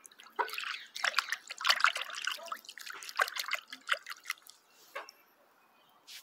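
Water drips in a quick, irregular patter of many small, close drops, thinning out toward the end and quiet overall.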